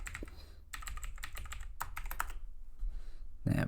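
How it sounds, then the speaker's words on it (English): Fast typing on a computer keyboard, heard up close as clustered clicky keystroke bursts with short pauses, ending in a heavier key thump. "Would help if I could actually type properly."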